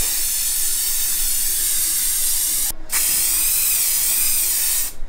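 Hairspray sprayed from an aerosol can onto a wall to lift pencil marks, a loud steady hiss lasting several seconds, a brief gap, then more continuous spraying before a second pause near the end.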